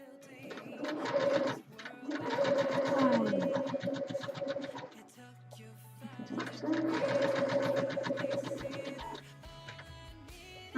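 A sewing machine stitches a quilt block in two sustained runs of rapid, even mechanical chatter, each several seconds long, separated by brief pauses, with a short break and low hum partway through.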